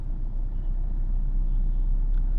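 A car cruises in third gear through Chennai traffic, a steady low engine and road rumble filling the cabin at constant speed, with no talk.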